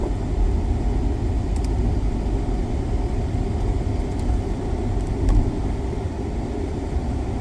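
A car drives along the road on the morning commute, a steady low engine and road rumble heard from inside the cabin with a few faint clicks, no one speaking.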